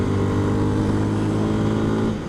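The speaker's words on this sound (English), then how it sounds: "a CF MOTO 350 SR. It's like a sports bike." A CF Moto 350 SR sports motorcycle is being ridden. Its engine gives a steady, close, loud drone that holds a constant pitch throughout, with no voices.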